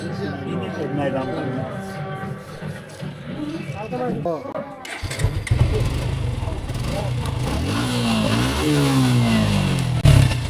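A used second-hand motorcycle with about 14,000 km on it revs its engine. The engine climbs and falls in pitch after an idle, over nearby people talking.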